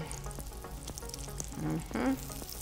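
Eggplant slices frying in hot grease, a low crackle with scattered sharp pops, fairly faint and close, with a few brief tonal clatters over the sizzle.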